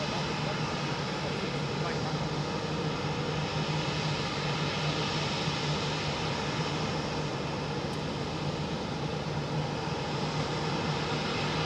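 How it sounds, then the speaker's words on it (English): A Gulf Air Boeing 787 Dreamliner at Heathrow Airport produces a constant, loud roar of jet engines, steady throughout and heard from nearby. "Probably wait for this Gulf Air Dreamliner to move forward and then I think she's going to push."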